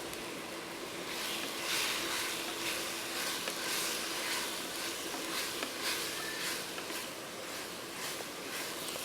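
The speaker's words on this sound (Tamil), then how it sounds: "ரெண்டு சேர்த்து நல்லா வதங்கட்டும்." Mint and coriander leaves sauté in a pan for a mushroom biryani, giving a steady, even sizzle that holds at a constant level throughout with no talk over it.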